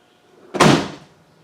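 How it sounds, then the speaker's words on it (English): A car's middle door swings open in one sudden, loud thud-like burst that quickly fades, heard alone with no talk. "Let me open this middle door."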